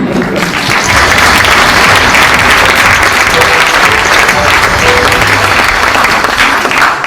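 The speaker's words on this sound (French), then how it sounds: "c'est bientôt l'heure des applaudissements" Continuous, loud applause from many people, in a stage play about neighbours applauding from their balconies; the clapping stays dense and even throughout with no pauses.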